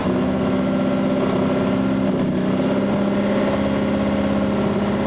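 A Massey Ferguson pulling tractor at a 1995 European tractor pulling event in Herning, Denmark, runs with a steady, loud, rough engine drone that holds at a labored, low-revving pitch with no talk over it.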